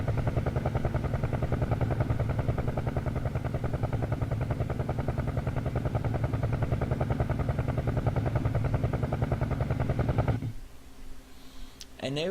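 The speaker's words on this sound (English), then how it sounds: "we get a flyby of a helicopter flying over us" Helicopter flyby in a surround-sound demo played through a 7.1 virtual surround stereo headset: steady low rotor thumping and engine drone holding loud for about ten seconds, then cutting off abruptly, with faint room noise after.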